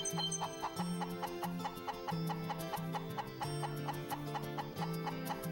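Chickens clucking in the Wild Arms 3 video game, a steady run of short repeated clucks and ticking notes over a continuous game soundtrack, with no talk.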